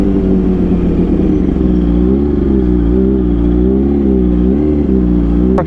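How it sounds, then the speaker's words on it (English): Motorcycles ridden on a cold, chilly road, a loud, close engine drone with wavering pitch as the bikes rev and pass, steady throughout with no voices. "Some motorcycles."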